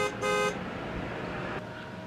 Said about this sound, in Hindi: मैंने गाड़ी की सारी लाइटें ऑन कर दी और ज़ोर ज़ोर से हॉर्न बजाना शुरू कर दिया।